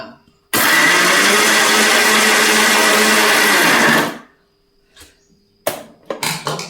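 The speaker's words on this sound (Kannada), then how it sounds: "ಬನ್ನಿ ನಾವು ಚಟ್ನಿಗೆಲ್ಲ ಹಾಕ್ಕೊಂಡಿದ್ವಲ್ಲ ಅದನ್ನು ಮಿಕ್ಸಿ ಮಾಡ್ಕೊಳ್ಳೋಣ" A kitchen mixer grinder blending tomato chutney ingredients runs in one loud, steady whirring burst of about three and a half seconds, then winds down, followed by quiet and a few clattering knocks.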